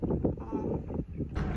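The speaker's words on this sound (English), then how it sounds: "It's really nice and windy and breezy." Wind gusts buffet the microphone at a seaside resort in Da Nang, Vietnam, a steady low rumble that swells and dips, with faint voices underneath.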